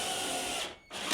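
A power drill driving screws into a kitchen cabinet being built in a camper van, a loud continuous whine that briefly drops out before starting again.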